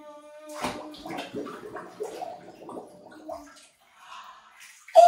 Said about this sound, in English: made bubbles